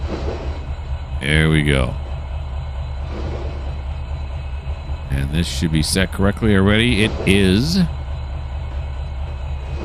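A train runs in the Trainz 2022 railway simulator, a steady low rumble and hum that continues throughout while someone talks over it.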